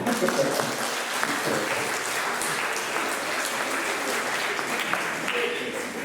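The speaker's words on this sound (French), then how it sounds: "Ouais, vous pouvez les applaudir." Audience at a hypnosis show breaks into sustained, fairly close applause that stays dense and steady for about six seconds, with murmuring voices mixed in.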